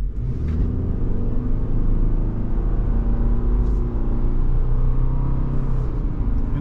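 A 2023 Subaru Forester Wilderness Edition drives along a road, heard from inside as a steady, loud low rumble of engine and tires with a faint whir, no voices.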